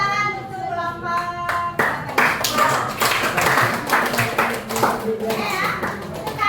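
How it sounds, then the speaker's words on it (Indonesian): Classroom of middle-school students clapping for a group, a burst of dense, lively applause after a short stretch of voices, with children's chatter and talk continuing under the clapping. "Tepuk tangan untuk kelompok"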